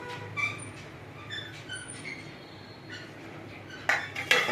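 A pressure cooker lid clanking shut, with scattered light metallic clinks and a couple of louder knocks and scrapes toward the end in a quiet kitchen.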